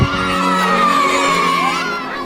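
Schoolchildren in Papua shout and cheer together as a food delivery car arrives, a loud, close crowd of high excited voices that carries on without a break.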